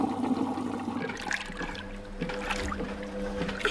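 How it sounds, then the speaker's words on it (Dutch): A cartoon washing machine filling with detergent and water: a continuous watery rushing and gurgling with bubbly splashes, steady and fairly close throughout. "De wasmachine loopt vol met wasmiddel en water."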